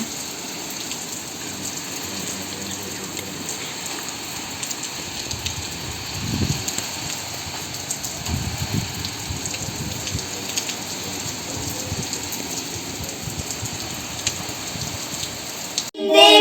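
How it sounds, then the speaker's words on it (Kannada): Steady heavy rain pours down continuously, a dense hiss with scattered louder splashes, ending in a short burst of other noise. "ಸಿಕ್ಕಾಪಟ್ಟೆ ಜೋರಾಗಿ ಮಳೆ ಬರ್ತಾ ಇದೆ"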